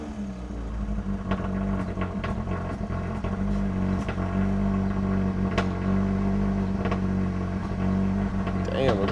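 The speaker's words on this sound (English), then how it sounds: "Damn, we got cold start." A Peugeot 308 GTi turbocharged THP engine, just repaired for a PCV oil leak, idles roughly after a cold start with a steady low hum and rumble close by, while someone talks over it.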